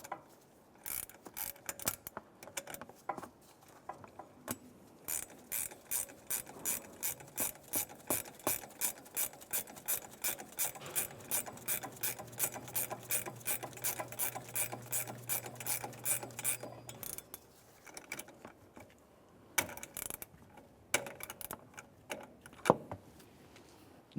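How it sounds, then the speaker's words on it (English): A ratchet wrench tightens the front shock absorber nut on a 2001-2005 Ford Explorer Sport Trac, a long series of rhythmic clicking strokes, close and moderately loud, pausing briefly before a few more clicks. "So you just want to use a ratchet wrench. Go ahead and tighten this while you hold that stud."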